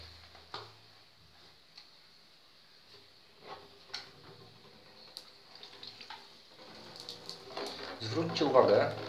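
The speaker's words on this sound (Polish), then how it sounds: "Zobaczcie, ta woda idzie dość szybko, nie?" Water runs and trickles quietly through a reverse osmosis filter's tubing in an apartment, with small clicks and drips, growing louder and more splashy toward the end.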